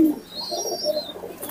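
Pigeons in a breeding loft give a soft, low coo with faint higher chirps over it, one brief close call.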